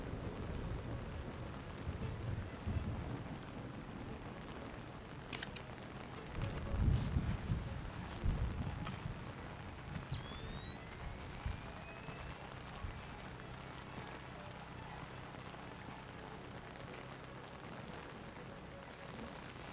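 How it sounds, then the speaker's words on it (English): Heavy rain in the video game Splinter Cell: Chaos Theory pours steadily in a constant hiss, with a brief low rumble in the middle and a few faint sharper sounds. "Man, it's really raining"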